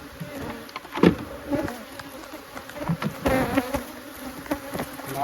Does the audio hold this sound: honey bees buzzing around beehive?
yes